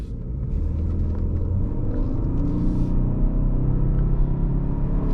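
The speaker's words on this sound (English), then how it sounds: "the 4-cylinder doesn't sound too bad, but it always sounds like it's groaning to, you know, get the power out." Cabin sound of a 2022-2023 Lincoln Corsair Grand Touring plug-in hybrid's 4-cylinder engine under load, a loud droning low rumble with strained tonal hum, rising slightly as it accelerates, no talk.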